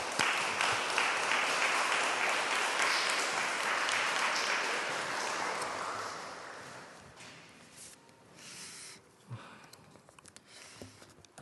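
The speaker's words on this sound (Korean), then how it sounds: "우리 환영의 박수로 환영했으면 좋겠습니다" A church congregation in a Korean community in Freiburg claps in welcome for a guest speaker, a dense burst of applause that gradually fades out over several seconds, leaving a few scattered sounds.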